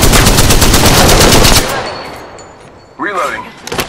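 Loud, rapid automatic gunfire in Apex Legends, a dense continuous burst that cuts off, followed by quieter background game sounds, a brief voice and a few more scattered shots.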